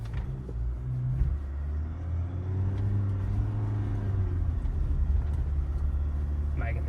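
Ford Ranger Sport, 2023 model, driving across soft sand on a beach at Buffalo, giving a steady low engine rumble with some revving and tyre churn that holds throughout, close and continuous.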